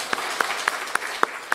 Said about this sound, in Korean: 다시 한번 박수 치겠습니다